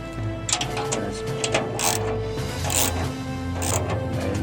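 Hinge bolts on a GMG Daniel Boone or Ledge folding front shelf get their final tightening, giving close, repeated ratcheting clicks and metallic turning sounds in short bursts over a faint steady hum.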